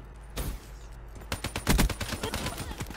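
Gunfire rattles through a firefight in Black Ops 3, starting with a lone burst and a pause, then rapid automatic shots in quick succession, loud and close.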